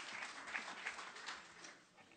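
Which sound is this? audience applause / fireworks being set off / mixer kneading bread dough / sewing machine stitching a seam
audience applause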